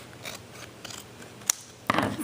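A cutting tool trims the edge of a handmade Christmas card, soft scraping strokes followed by a crisp snip and a louder slicing rasp near the end, close and alone.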